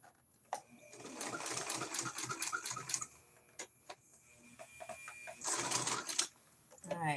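A sewing machine runs in quick rhythmic bursts while stitching fabric coasters, its rapid needle ticking close and clear, pausing between runs, with a person talking softly at times.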